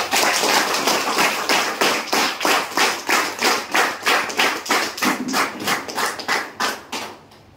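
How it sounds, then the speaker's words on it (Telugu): A meeting audience claps together loudly in a steady, even rhythm, about twenty strong unison claps over several seconds, fading slightly at the end. "ఒకసారి ఒకసారి గట్టి క్లాప్ సార్"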